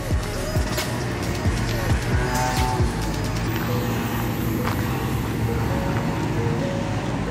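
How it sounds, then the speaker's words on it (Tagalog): Steady traffic rolls past on a busy road near the Bois de Boulogne, a continuous loud rumble with a few passing swells and no break. "Dito, maraming sasakyan."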